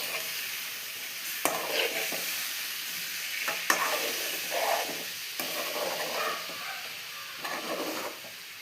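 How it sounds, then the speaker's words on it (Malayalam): Banana pieces fry in about three spoons of ghee in a pan, with a soft continuous sizzle broken by several sharp scrapes and clicks of a spoon stirring, close and fairly quiet. "ഇനി നമുക്ക് അതിലേക്ക് ഈ പഴം ഇട്ട് കൊടുക്കാം. നമുക്കൊന്ന് ഇളക്കി കൊടുക്കാം."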